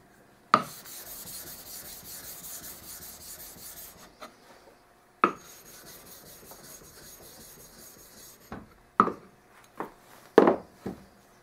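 Sharpening stones rubbed with slurry raised from a diamond plate, giving steady close-up rasping strokes, two long passes followed by a few shorter scrapes with sharp taps at their starts.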